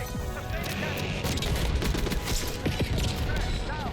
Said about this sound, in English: He just strolled out and shot me in the back